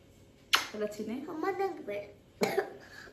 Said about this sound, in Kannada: ಬೆಳಗ್ಗೆ ಬರುತ್ತೆ ಡ್ರೈ ಕೆಮ್ಮು